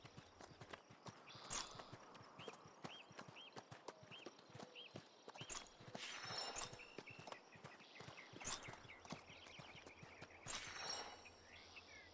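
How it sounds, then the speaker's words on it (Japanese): A startled horse in the Oregon Trail video game, heard as brisk clip-clop hoofbeats, a sharp repeated rhythm punctuated by louder bursts and a few faint whinny-like cries, with no talking. "ヒヒーンベシャーン突然、馬が路上の何かに驚いて怯えて飛び上がりました。"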